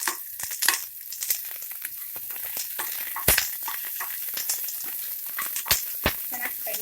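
Chopped ginger and green chillies frying in a pan, crackling sizzle with sharp pops and spatula scrapes at irregular moments, close and clear with no voices.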